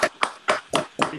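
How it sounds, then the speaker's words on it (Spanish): Scattered claps from several participants on a Zoom video call, arriving in about five distinct bursts of two or three sharp hand claps each, compressed and slightly uneven. "que todos abran sus micrófonos y le demos un fuerte aplauso a Carlos"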